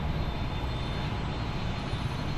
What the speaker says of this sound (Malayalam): സ്കൈ ട്രെയിൻ വരുന്നുണ്ട് ഗൈസ്. ഇത് ടെർമിനൽ 3 സ്കൈ ട്രെയിൻ